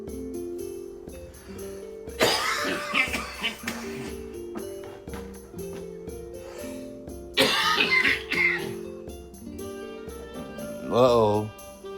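Heavy coughing from smoking a hookah, two loud harsh bursts several seconds apart with a rougher throaty fit near the end, set against quiet background tones.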